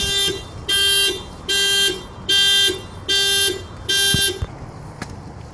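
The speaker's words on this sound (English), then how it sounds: "I had to open the door and it set the alarm off." A car alarm set off by opening the door blares in a loud repeating pattern, six long harsh tones with short gaps between them, close by, before cutting off abruptly.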